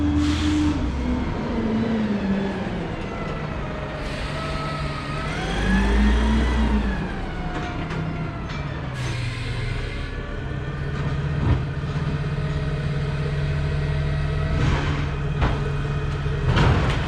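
A '69 Valiant with a Turbo 360 engine runs steadily at idle and then revs up and settles a couple of times, producing a continuous, close, fairly loud rumble with rising and falling tones and no talking.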